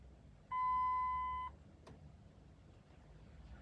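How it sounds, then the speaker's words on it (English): A single clear electronic beep lasting about a second as an old Dodge/Chrysler/Jeep key pairs, followed by a faint click, against a quiet background. "Heard a beep there."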